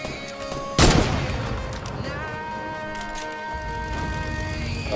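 Fortnite: Battle Royale gunfire opens with one sharp loud shot, followed by a sustained din of game tones and rattling in the background.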